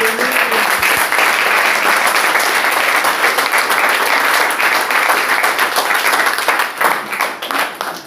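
Sustained applause from a congregation at a church service, dense and steady clapping that continues for several seconds before tapering slightly at the end.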